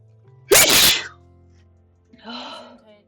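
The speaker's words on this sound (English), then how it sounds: "Gesundheit." A single sharp, close sneeze bursts out, followed a moment later by a softer voice speaking briefly.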